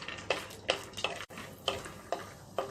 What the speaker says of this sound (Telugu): నెయ్యి వేడైన తర్వాత వేరుశనగ పప్పును వేసుకొని వేయించుకోవాలి.